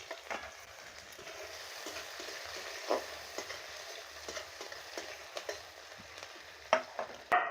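Onions frying in a little oil in a kadai with a dried chili and cumin seed tempering, a soft, low sizzle with intermittent stirring knocks and scrapes, fairly faint throughout.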